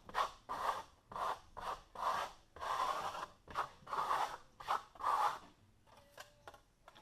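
A trowel skims Tadelakt lime plaster in a skip-trowel pass, giving a series of short, close, rasping scrapes in an irregular rhythm that fade into lighter scratches at the end.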